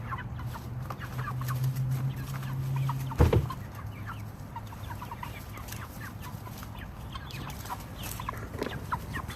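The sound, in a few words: chickens clucking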